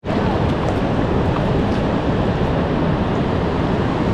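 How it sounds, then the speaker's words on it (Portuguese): Water pours over the falls of an old dam, a loud, dense, unbroken roar that fills the space, close by and steady throughout. "Agora escuta o barulho da água, da queda que tem."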